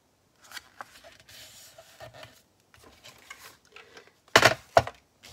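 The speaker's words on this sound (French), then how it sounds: "Et je viens les couper." Sharp snipping of scissors through folded paper pages for hand bookbinding, two quick close cuts near the end after soft rustling and handling of the stacked sheets.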